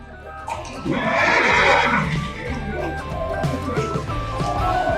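A horse whinnies loudly and drawn-out near the start, with other animal and outdoor noise continuing underneath.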